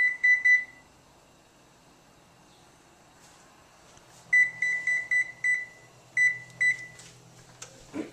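An oven control panel being set to bake at 425 gives a few quick beeps, then after a pause a run of clipped electronic beeps in short bursts, close and clear over a quiet room.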